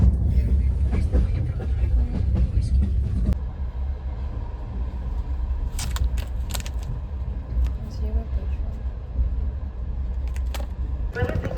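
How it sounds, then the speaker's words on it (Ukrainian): Passenger train rolling along, heard from inside a platzkart sleeper carriage on a hot day, a continuous low rumble with rattling and occasional clatter, with a voice talking over it at the start. "Їду зараз в плацкарті"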